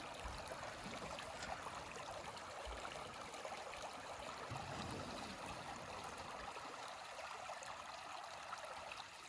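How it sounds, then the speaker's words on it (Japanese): A river flows steadily nearby, with waves mixing in, as a broad continuous wash of water fills the whole stretch without any talk. "川の音と波の音聞きながら川魚食うっていいね。"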